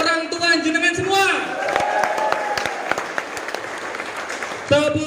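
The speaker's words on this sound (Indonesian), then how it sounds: "Tepuk tangan untuk orang tua jenengan semua." Large seminar crowd of non-civil-servant workers in Central Java breaks into applause and cheering, a rippling clatter of hands between bursts of a man's amplified speech at the start and end.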